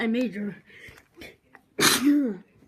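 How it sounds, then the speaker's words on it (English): A single sharp, loud sneeze bursts out near the end, following a few moments of a person talking nearby. "sorry about that, audience. I sneezed."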